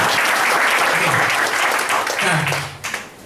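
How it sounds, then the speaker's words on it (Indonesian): An audience at an indoor seminar breaks into loud, sustained applause, dense clapping that fills the room before tapering off as a voice resumes near the end. "Tepuk tangan sekali lagi dong Bapak Ibu ya."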